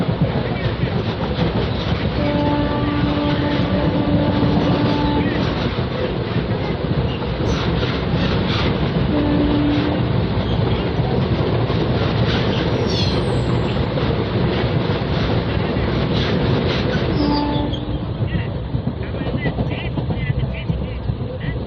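A train rumbles past continuously with rhythmic clattering over the rails and a few brief horn-like tones, loud and close throughout.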